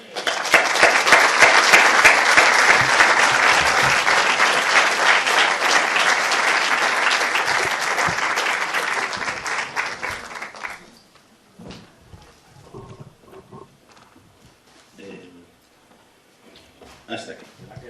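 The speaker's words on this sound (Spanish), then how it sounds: "Un aplauso." A crowd applauds a speaker with loud, dense clapping for about ten seconds, then it stops abruptly and leaves quiet room tone with a few faint scattered sounds and brief voices.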